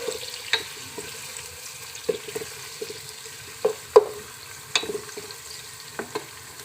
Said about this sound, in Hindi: प्याज को ब्राउन करेंगे जब तक प्याज इसी तरीके से कुक होगा।